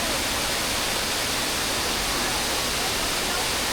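Shifen Waterfalls in Taiwan roar as a loud, dense and unbroken rush of falling water, constant throughout, with a voice faintly present beneath the torrent.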